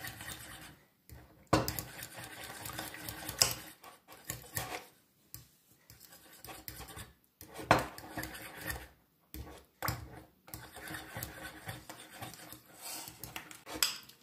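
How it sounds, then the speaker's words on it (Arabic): Cheese, butter and garlic being beaten together into a cream, heard as close, rasping scrapes in irregular bursts separated by short pauses, with no talking. "ضربت الفرماج ولا الزبدة والثوم حتى تحصلك على كريمة على الشكل هذا"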